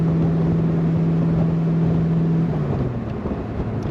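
A 1965 Shelby Cobra replica's engine drones at steady low revs while cruising at about 50 mph, a constant close hum with wind and road rush around it.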